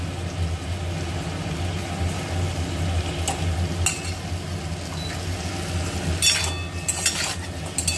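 Peeled boiled eggs shallow-fry in a pan with a steady, soft sizzle, broken by a few sharp scraping or stirring clicks near the end, no talking.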